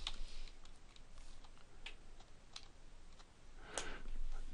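Fast clicking of computer keyboard keys, steady and close, laid over a constant hiss of background noise with a few slightly louder taps near the end.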